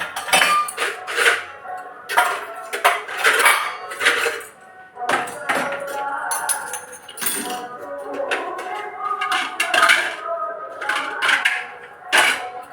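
Washed dinner plates and a cooking kadai being stacked away in a home kitchen, a run of clattering metal clinks and knocks at close range, irregular and busy, with faint festival loudspeaker sound behind.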